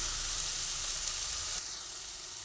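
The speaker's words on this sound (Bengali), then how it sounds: "কুমড়োগুলোকে আমি ভেজে নেব পুরো কুমড়োটা দিয়ে দিলাম" Pumpkin frying in hot oil gives a steady, close sizzle and hiss that eases off slightly partway through, with no voices.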